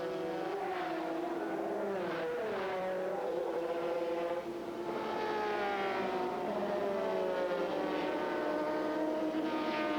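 A Renworks Porsche 911 GT race car roars along a straightaway during a 2003 Grand American Rolex Sports Car Series race, its engine note rising and sustained loudly with layered engine tones, no talk heard.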